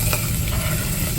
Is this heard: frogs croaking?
no